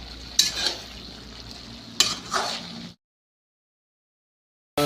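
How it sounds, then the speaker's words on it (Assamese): Tomatoes frying in a pan, a soft sizzle with two sharp stirring scrapes before the sound stops dead and the clip goes silent. "ফ্ৰাই কৰি আছোঁ অকণমান।"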